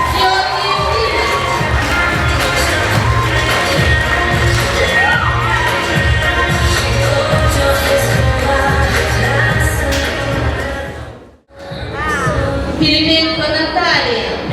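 A crowd at a school freshman ball bursts into loud, sustained cheering and whooping with shouting voices and music underneath, cutting off briefly near the end before the noise picks up again.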